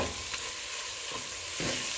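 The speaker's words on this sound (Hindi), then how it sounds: "थोड़ी देर जी हमने इसको इसी तरह हिलाना है।" Eggplant curry, baingan bharta, is stirred in a hot pan, soft scraping strokes every half second or so over a steady low sizzle, close and quiet.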